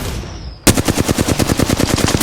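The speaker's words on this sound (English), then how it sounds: "Getting shot at." Rapid automatic gunfire bursts out after a brief quiet moment in an Apex Legends match, a loud, steady rattle of shots while the player is under fire.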